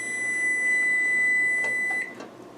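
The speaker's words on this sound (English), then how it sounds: "Whoops. Timer." A kitchen timer beeps as one long, steady high-pitched electronic tone for about two seconds, then cuts off, heard up close in a home kitchen during soup cooking, with light handling noise.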